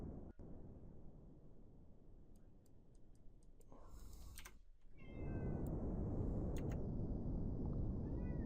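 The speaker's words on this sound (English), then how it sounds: "Okay, cat, you're super loud." A cat meows loudly indoors during a Kerbal Space Program gaming session, with several drawn-out meows near the microphone over a steady background hum and a few faint ticks.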